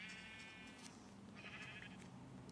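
Sheep bleating in Minecraft Pocket Edition, a single drawn-out bleat over a steady game background hum, moderately faint and heard alone without talk.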